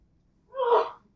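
A single sneeze bursts out close by in a quiet room, rising and fading within about half a second.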